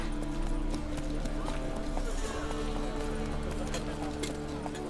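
Roach the horse gallops in The Witcher 3, a steady drumming of hooves under a busy game soundscape with music, continuous and fairly close; a voice speaks briefly over it.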